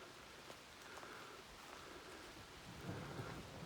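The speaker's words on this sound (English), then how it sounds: "Still getting the thunder and lightning." Faint rain patters steadily on the Appalachian Trail while distant thunder rolls low beneath it, swelling slightly near the end, quiet and without talk.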